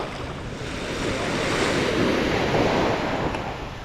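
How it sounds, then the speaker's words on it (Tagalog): Waves wash steadily on a calm sea, a continuous broad rushing swell heard up close with gusty wind buffeting the microphone and no talking. "Kalmado ang dagat ngayon"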